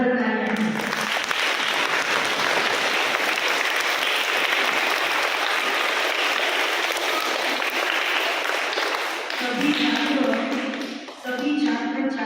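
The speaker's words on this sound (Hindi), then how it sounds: "उनके लिए जोरदार तालियां" Applause for contestants at a Hindi recitation event at a school, loud and dense with many hands clapping, then a brief pause and a short burst of speech as the clapping eases.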